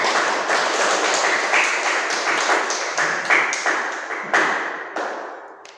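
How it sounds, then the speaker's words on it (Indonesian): A classroom of students applauds during an Islamic religion lesson, a dense patter of many hands clapping at close range that swells and eases in uneven waves before tapering off. "tepuk tangan"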